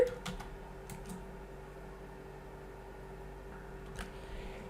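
Someone types a plugin name on a computer keyboard in a WordPress search box, giving a few quick, light key taps in brief bursts over a faint steady room hum.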